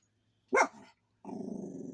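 A territorial dog indoors barks once sharply with a growl trailing off, then after a pause lets out a sustained low growl, close and fairly loud, reacting to another dog walking in the hallway.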